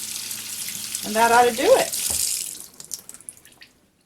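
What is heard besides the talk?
cold tap water running over leeks in sink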